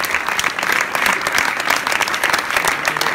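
Sustained applause from a concert crowd, many people clapping densely and evenly at close range, holding a steady loud level throughout without speech.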